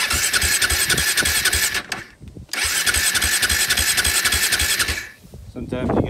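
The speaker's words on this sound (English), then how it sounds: "We'll fire this thing up and uh, see if we can beat that wheelie. Let's do it. See if she starts." A KTM quad's engine cranks and fires, running loud and close with a steady revving roar, cutting out briefly and restarting, then dropping away near the end; a voice is heard faintly at points.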